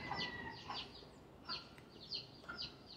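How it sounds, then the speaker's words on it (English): A chicken clucks in short repeated bursts, fairly close, with quiet background between calls. "You hear the chicken?"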